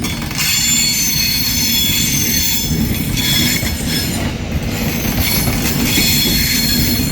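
East Midlands train to Liverpool Lime Street arriving at Manchester Piccadilly, a steady loud rumble of rolling stock with sustained high wheel squeal running through the whole stretch.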